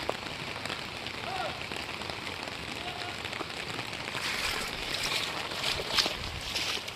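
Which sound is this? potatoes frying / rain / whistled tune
rain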